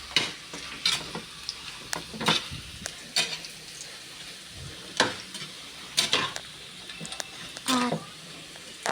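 Food stirred and sizzling in a pan, with repeated sharp scrapes and clinks of a utensil against the metal over a steady frying hiss, close by, with a little voice in the background.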